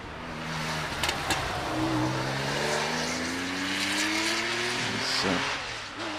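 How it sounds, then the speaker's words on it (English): An older air-cooled Porsche 911E climbing the Prescott hill climb course, its engine rising and falling through the gears as it accelerates away, loud at first and then fading with distance. "one of the older 911s, a 911E, so the air-cooled machines, of course."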